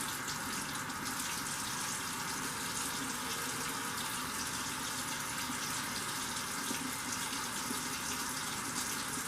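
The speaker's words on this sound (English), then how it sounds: "And wet the scrub brush." Water running steadily from a tap to wet a scrub brush, a faint, even rushing stream heard alone for several seconds.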